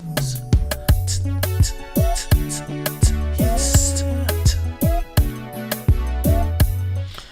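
Instrumental beat with punchy drums, bass and keys, crisp hi-hat ticks cutting through at a steady rhythm.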